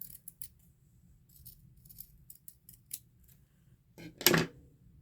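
Scissors cut paper scraps for a handmade birthday card in a series of light, quiet snips, ending with one louder, longer crunching cut.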